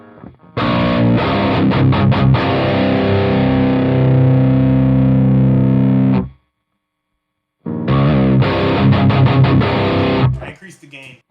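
An electric guitar played through a Boss GT-1000 Core on a high-gain metal patch chugs dense, distorted palm-muted riffs loudly and close. It stops abruptly for about a second of silence, then resumes and trails off.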